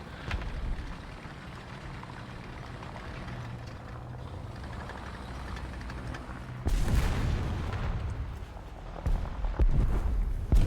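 Distant rattling bursts and booms of aircraft guns strafing in a tank battle video game, a steady low rumble that turns into louder, denser bursts of gunfire later on.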